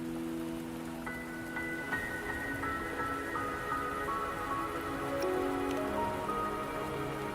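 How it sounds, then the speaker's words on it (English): Steady rain falls throughout a scene in the video game Wuthering Waves, a continuous close patter with soft musical tones ringing over it and no talking. "Don't worry, the rain won't last much longer."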